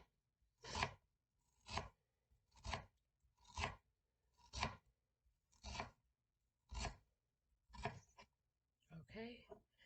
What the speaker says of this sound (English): Ginger is very fibrous when you're cutting through it, so just be careful